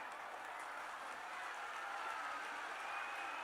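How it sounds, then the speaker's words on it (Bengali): Steady crowd applause at an outdoor political rally on a field in Bargachhia, Jagatballavpur, a dense continuous wash of clapping held at an even level throughout. "একটা হাততালি দিন।"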